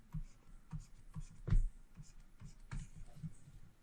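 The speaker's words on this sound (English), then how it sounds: "So I'll draw this line." A pen scratches across paper while drawing a line during a geometry explanation, with a series of soft, close strokes and taps and one firmer press.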